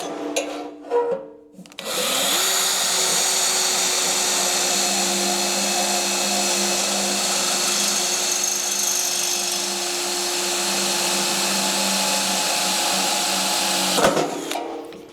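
A drill with a dull bit bores steadily through metal on a rat rod, one long continuous grinding whine lasting about twelve seconds, close by, with brief clatter before and after.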